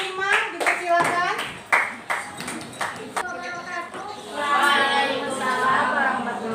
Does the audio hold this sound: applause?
yes